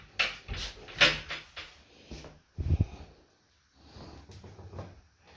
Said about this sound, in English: Close the door here.